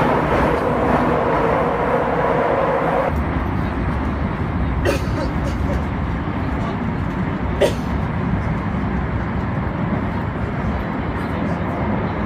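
A metro train rumbles steadily underway through the Bucharest subway near Piața Victoriei station, a continuous loud roar with faint brief clicks, no voices.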